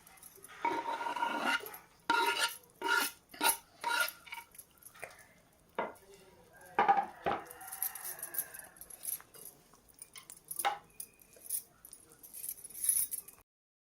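A spoon stirring vegetable curry with coriander in a metal pot, with irregular scraping and clinking bursts separated by short pauses, close and moderately quiet.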